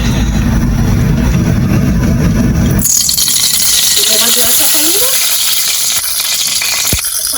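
Garlic and oil sizzle loudly in a hot pot while Sunday curry chicken dinner is cooked, a steady broadband crackle throughout with brief clattering and a voice over it partway.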